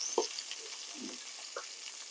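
A burger patty frying in a pan for an Aussie burger, a steady soft sizzle with a few brief pops and crackles, heard close and alone with no talk.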